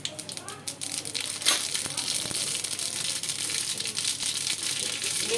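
Mustard seeds splutter and crackle in hot oil while a tempering is prepared for patudi. The sizzling is dense and continuous, with sharp pops near the start, and a voice talks over it.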